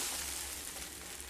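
An egg mixture sizzles softly in a frying pan, a steady light crackle of frying that ends with a brief bump as it is turned over.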